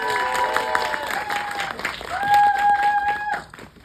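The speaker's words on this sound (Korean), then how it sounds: "박수로 먼저 환영해 주셨는데요" An audience at a film screening's guest talk applauds in a sustained burst of clapping, with a few high whistle-like or cheering tones rising over it before it tapers off.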